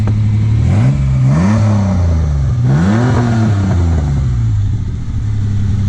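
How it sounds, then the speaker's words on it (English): A 1996 Ford Ranger XLT pickup engine, just started, is revved several times in quick succession, each rev rising and falling clearly over a steady idle, loud and close with no talking. "And here's a little rev."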